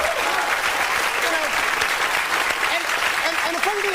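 Studio audience applause at a late-night comedy talk show, a dense, steady wash of clapping filling the whole stretch at full volume, with a voice faintly audible through it.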